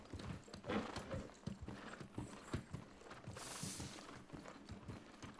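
Horse hooves clip-clop across the ground in the New World game, a steady run of sharp, near hoofbeats mixed with mechanical clanks and a brief hissing burst, no talk.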